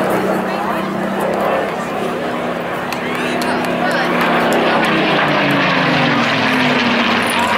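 A Supermarine Spitfire propeller aircraft flies at the Clacton air show, its engine a loud, steady drone that swells slightly toward the end, with a voice carrying faintly underneath.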